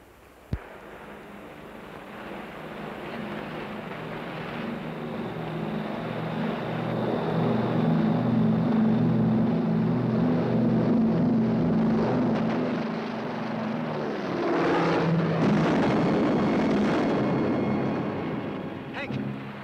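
Propeller aircraft taking off, a droning engine hum swelling from moderate to loud and steady, dipping briefly then surging again, with voices occasionally heard beneath it.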